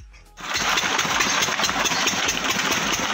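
Farm water pump engine in a village field starting abruptly after a brief quiet moment, then running loud and steady with a rough, rapid knocking chug, close by and without talk.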